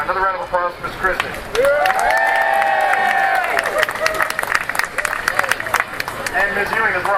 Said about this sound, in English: Let's have another round of applause for Ms.